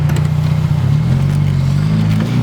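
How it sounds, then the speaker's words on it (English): A car with a worn exhaust rattles while driving, a loud low engine drone with a metallic buzzing rattle running steadily throughout. "Exhaust rattle's a little bad"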